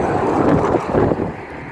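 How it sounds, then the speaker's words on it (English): Heavy wind buffets the microphone in rough, rumbling gusts, a loud, low roar throughout with no voices. "Got a bit windy here, so blow me around a little bit."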